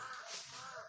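A single crow calls outdoors, one drawn-out, slightly wailing caw lasting about a second, fairly faint against the ambient background.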